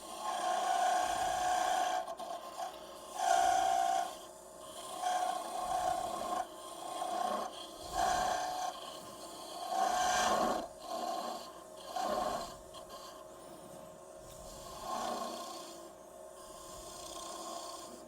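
A small skew chisel cuts a wooden ornament finial on a spinning lathe, producing rhythmic rasping, scraping passes over a low whirring hum, close and continuous.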